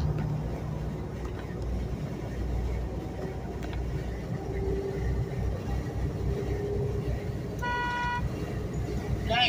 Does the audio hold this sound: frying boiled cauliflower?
no